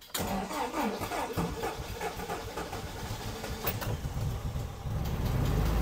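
A Mitsubishi Montero's engine runs and revs steadily after its broken accelerator cable was replaced, a loud, continuous mid-pitched drone that swells louder toward the end.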